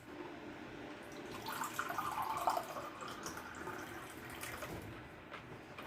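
Spa water flavored with strawberries, blueberries and blackberries pours into a glass, a soft continuous splashing that swells in the middle and stays close and steady.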